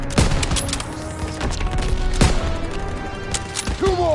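Combat gunfire in a World War II video game: scattered sharp shots, some near and some farther off, cracking over a steady battlefield background.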